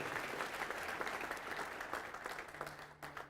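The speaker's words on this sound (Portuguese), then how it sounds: "Vamos aplaudir mais ao nome de Jesus" A church congregation claps in steady, dense applause at a worship service, filling the space with continuous rapid hand claps that hold even throughout and thin slightly toward the end.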